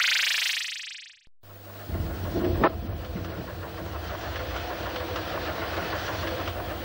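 A train running on rails, a steady low rumble with rolling wheel noise and a brief squeal, heard from inside a carriage after a short burst of other noise, without talk.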